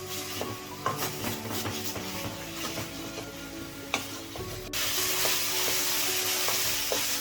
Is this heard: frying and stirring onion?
yes